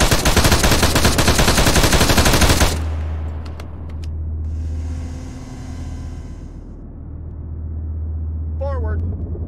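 Heavy machine gun fire rattles in a dense, continuous burst for nearly three seconds during combat near a Russian camp south of Kherson, followed by engine rumble, a few distant pops and shouted voices.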